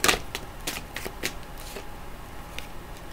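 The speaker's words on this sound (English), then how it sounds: "I am going to shuffle one more time" Tarot cards shuffled by hand, a series of crisp riffling bursts close up, sharp at the start then repeating at irregular intervals, no talking.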